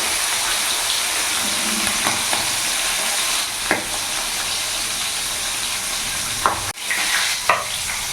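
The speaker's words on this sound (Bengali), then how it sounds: "তেল গরম হয়ে গেছে, এবার এক এক করে আমি মাছগুলো ছেড়ে দেবো" Large pieces of silver carp fry in hot oil with a continuous close, loud sizzle and crackle, broken by a few sharp spatters and a brief clatter.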